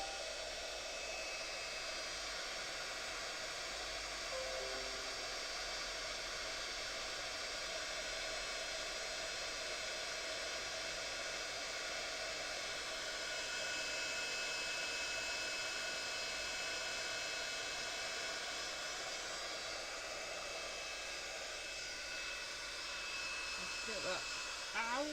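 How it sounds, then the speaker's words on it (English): A steady, loud rush of blowing air with a constant whine runs throughout, like a hot-air tool held close, with a brief clatter near the end. "I'm about to use my heat gun"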